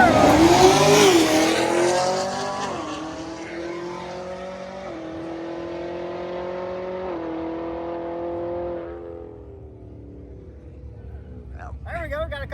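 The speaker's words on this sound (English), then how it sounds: "There we go, got a couple Camaros going down" Camaros drag racing down the track, a burst of hard acceleration with squealing tires followed by engines winding up through gear changes and fading into the distance, with crowd and announcer voices around.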